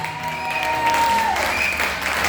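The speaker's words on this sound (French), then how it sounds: "Si le Dieu est là, acclame le plus fort." Congregation at a French-language prophetic church service breaks into applause and cheering, a steady wash of clapping that swells midway and holds for a couple of seconds with a faint tone ringing over it.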